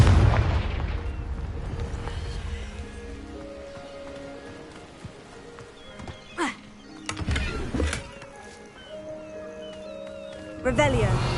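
A Confringo explosive spell cast in Hogwarts Legacy, heard as a few sharp booming bursts about midway through and again near the end, with sustained tonal music and ambience underneath.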